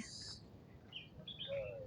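Faint, brief bird calls, a few thin chirps and a whistled note over a low outdoor background hum.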